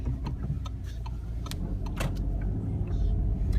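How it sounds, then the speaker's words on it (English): A VW car pulls into a bus stop with low engine and road rumble throughout, punctuated by scattered clicks and knocks from inside the cabin. "Okay, so I'm just pulling into the bus stop."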